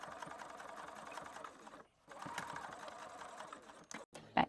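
A sewing machine runs steadily while top stitching along a fabric tube, a close, even whirring hum that pauses briefly midway and then resumes, ending with a few sharp clicks.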